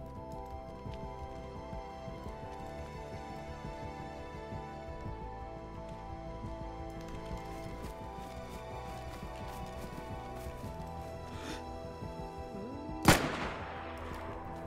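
A single sharp, loud gunshot from DayZ rings out near the end, following a long stretch of steady ambient game hum with faint scattered clicks.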